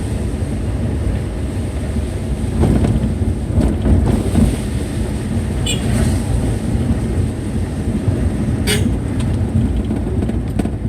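Steady rain and strong wind rush surround a delivery rider on a motorbike, a loud, continuous roar with a few brief clatters and no clear talk.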